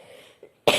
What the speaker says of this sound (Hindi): खांसी हो रही है। सॉरी, आप लोगों को डिस्टर्ब हो रहा होगा